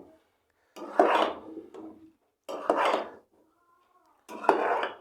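Vegetable fried rice being tossed and mixed in a pan: three bursts of scraping, rasping metal-on-rice stirring separated by short quiet gaps, close and moderately loud.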